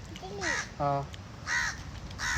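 A crow caws overhead at a seaside spot, giving three or four loud, harsh calls in quick succession while a person talks close by.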